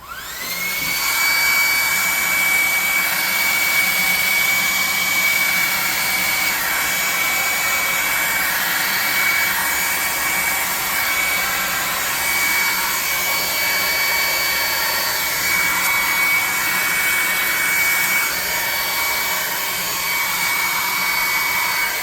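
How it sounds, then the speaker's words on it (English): A handheld blower dries glue on alien stalagmite tabletop terrain. It gives a loud, continuous whine and rush of air close by, steady for the whole stretch with little change in pitch. "All I'm doing is just trying to dry this off some so we can get to the next spot."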